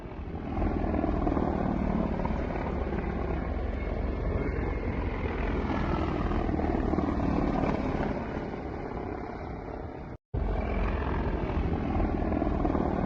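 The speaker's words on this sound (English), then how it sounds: "Low-flying Russian Mi-24 helicopters in the Kherson Oblast." Low-flying Russian Mi-24 attack helicopters over Kherson Oblast, a steady loud rotor and engine drone that holds throughout, broken by a brief cut near the end.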